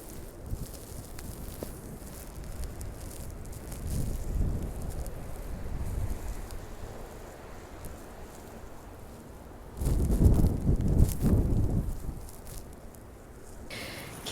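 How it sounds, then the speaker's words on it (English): Strong blizzard wind in a snowstorm in Toronto at -20 degrees roars steadily as a broad rushing noise with buffeting against the microphone, gusting louder about two thirds of the way through. "Can you guys hear the sound of the wind?"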